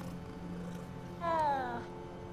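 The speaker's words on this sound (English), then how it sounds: "Ooh, kitty. Why, hello there." A cat in the video game Hogwarts Legacy gives a single drawn-out meow with a falling pitch, fairly close and clear over a steady low game background hum.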